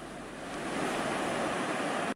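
Big surf and strong currents on a beach where stranded dolphins lie, a continuous broad wash of breaking waves, steady and fairly loud with wind noise and no voices.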